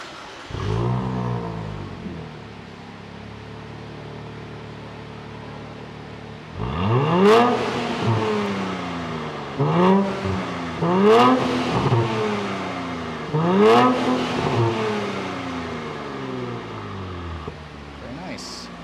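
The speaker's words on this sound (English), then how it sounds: "They actually told me I'm allowed to start it up, so let's go ahead and fire it up" A 2024 Nissan Z Nismo with a tuned exhaust cranks and fires up, then blips the throttle in several sharp revs that rise and fall, loud and close, with a person talking briefly before the start.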